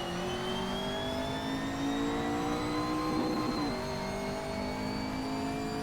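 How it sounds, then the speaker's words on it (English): A race car engine held on the rev limiter in the Assetto Corsa game on PS4, a steady loud buzzing drone at constant high revs with a brief dip and recovery partway through. "Sounds awesome on the rev limiter."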